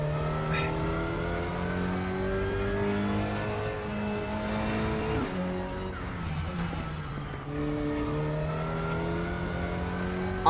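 A race car engine in the RaceRoom Racing Experience sim holds a steady, loud drone with shifting harmonic pitch as it revs up and down through gear changes, with a brief tire scrub near the end.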